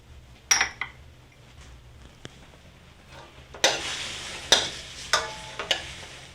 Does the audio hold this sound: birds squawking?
no